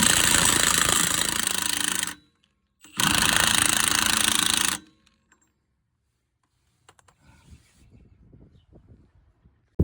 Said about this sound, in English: I set my impact wrench on number 2.